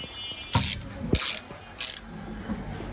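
A 1/4 inch drive ratchet handle from a 77-piece socket set clicks in three loud, close bursts of rapid ratcheting, each about a quarter second, with quiet pauses between.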